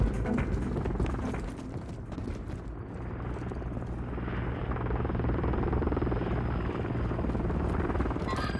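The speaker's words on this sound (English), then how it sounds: "Friendly Overwatch Helo inbound." A friendly overwatch helicopter in Call of Duty, heard as a loud, close, continuous rotor thump and engine drone that holds steady throughout.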